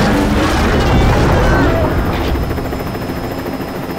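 A helicopter's loud, dense rotor and engine roar fills a tense movie action scene, steady and close before easing slightly, with a voice briefly mixed in.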